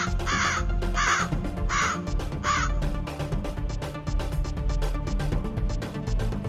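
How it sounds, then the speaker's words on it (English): Several crows caw in a run of four loud, rhythmic calls near the start, set against steady background music in a narrated children's story. "many crows started coming down to peck at them all"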